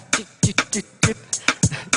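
A quick run of short, crisp percussive ticks in a bouncing rhythm, mouth-made to imitate a hi-hat pattern, close and clear with no other sound.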